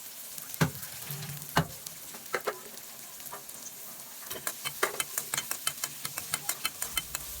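Chopped onion fries in hot egg oil and soybean oil over medium heat, a quiet background sizzle broken by sharp scraping stirs, sparse at first and then coming in a quick regular run.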